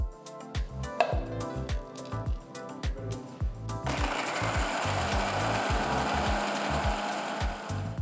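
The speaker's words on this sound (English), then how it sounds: "To the mixer jar, add the almonds, add about 2 teaspoons of sugar, add a little milk and grind everything to a nice fine paste." A mixer grinder whirs steadily while grinding almonds, sugar and a little milk into a fine paste, preceded by a run of rhythmic knocks and thuds before the motor's dense, continuous roar takes over.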